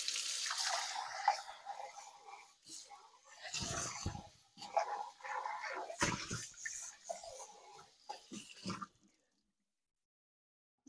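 Tap water runs into a kitchen sink as a utensil is rinsed while an Italian beef, noodle and cheese casserole is prepared; a steady splashing rush lasts about nine seconds, then cuts off to silence.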